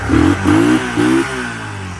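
A big custom three-wheeler's motor revs in three quick, loud blips close by, then settles into a steady rumbling idle.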